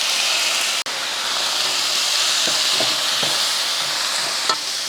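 Fried soya chunks sauté with green chilli and soy sauce in a hot pan, giving a loud, steady sizzle with occasional spatula scrapes and taps close by.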